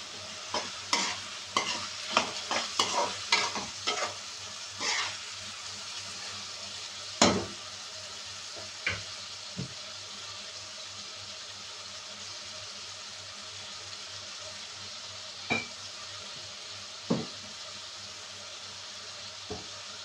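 Chicken cooking in a pan, a soft steady sizzle under repeated scraping stirs and clinks of a utensil, busy at first and then spaced out, fairly close.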